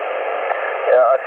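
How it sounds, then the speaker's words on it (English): Faint amateur radio transmission picked up through steady static on a magnetic loop antenna, a weak voice-like signal surfacing briefly near the end under continuous band noise. "I think there was somebody there, but quite weak with me."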